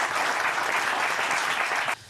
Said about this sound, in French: On peut applaudir Gad Elmaleh.